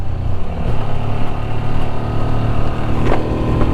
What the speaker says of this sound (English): For me, this is one very comfortable motorbike.